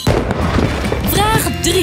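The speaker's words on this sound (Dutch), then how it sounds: "Zouden ze dan ook vuurwerk afsteken?" Fireworks sound effect in a Halloween quiz: a short burst of crackling bangs and whistling rockets, loud and close, filling under two seconds with no talk.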